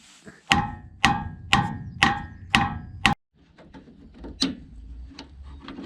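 A hammer strikes sheet metal on a Fortschritt E514 combine's leaking tank five times in a steady rhythm, each hit ringing sharply, followed by a pause and several lighter, scattered taps.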